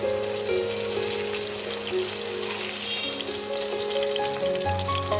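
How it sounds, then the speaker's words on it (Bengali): Pomfret fish frying in oil produces a continuous close sizzle and soft crackling, with faint tonal hums from the kitchen underneath and no talk. "মাছগুলো এপিস ওপিস ভালো করে ভেজে নিয়েছি"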